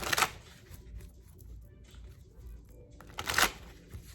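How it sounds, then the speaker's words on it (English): Tarot cards are shuffled in two quick, soft riffling bursts near the start and end, with quiet handling noise and faint background hum between. "let's get one more shuffle"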